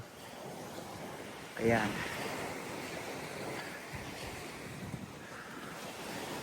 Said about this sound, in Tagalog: medyo mataas ang alon ngayon dito